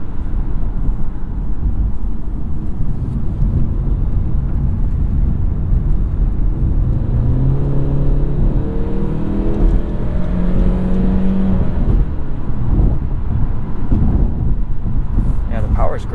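A 2016 Honda Civic Touring engine revs in sport mode inside the cabin, with rising engine tones climbing over a steady road and interior drone in the middle of the stretch.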